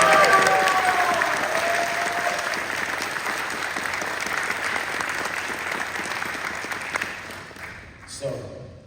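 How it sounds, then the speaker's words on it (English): A San Diego Comic-Con panel audience applauds loudly and steadily, with crowd noise, then the clapping fades out and a brief sound follows at the very end. "So let's give it another round of applause."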